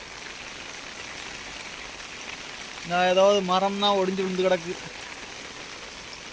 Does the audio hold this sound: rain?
yes